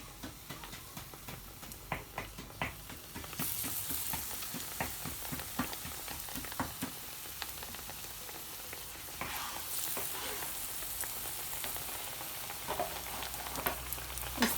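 Potato slices coated in gram flour batter are dropped into hot oil for pakoras, giving a broad, steady sizzle that swells as more pieces go in, with scattered ticks, taps and stirring clatter nearby.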